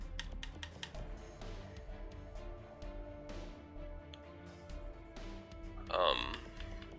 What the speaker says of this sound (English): I was typing to somebody